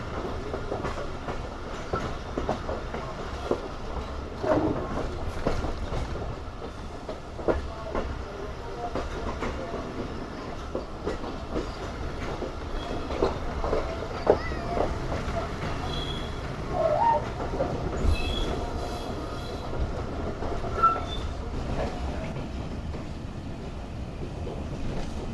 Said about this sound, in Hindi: सक्खर एक्सप्रेस अपने स्टेशन यानी सक्खर पर पहुंच गई है फाइनली।